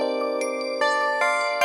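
A synthesized bell in an FL Studio trap beat rings out as a series of bright, sustained tonal strikes over a steady harmonic bed, with new notes arriving every fraction of a second at a moderate, even level.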